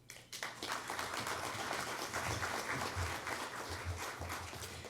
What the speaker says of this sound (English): How about another round of applause for Commander Torres and Deputy Chief Pappas?